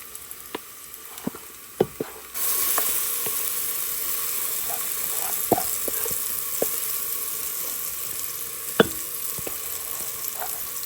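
A curry base fries in an uncoated pot with a steady close sizzle that swells louder after a couple of seconds, punctuated by sharp clinks and scrapes of stirring, no voices.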